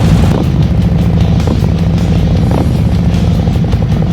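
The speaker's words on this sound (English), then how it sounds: "We also put some really cool Bassani slip-on exhaust on this one." A customized 2025 Harley-Davidson Road Glide with a Bassani slip-on exhaust idles loudly and close by with a deep, steady rumbling burble and occasional throaty pulses from the exhaust.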